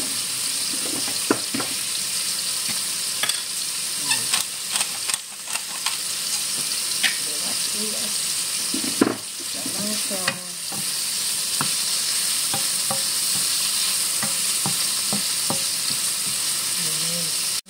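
Onion sizzling and frying steadily in a hot pan while making chicken sotanghon soup, with scattered stirring scrapes and clicks over the continuous loud hiss; no talk.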